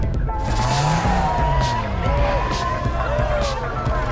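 A car in Need for Speed Underground 2 drifts through a mountain road, tires squealing in repeated wavering skids over a loud steady engine drone, close and continuous.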